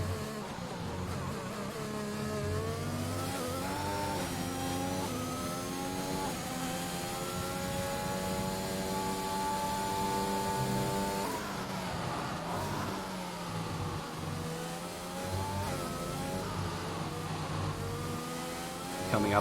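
A Formula 1 car engine in a racing video game at the Emilia Romagna Grand Prix, a steady high-pitched whine with rising and falling revs and gear changes, loud and continuous throughout.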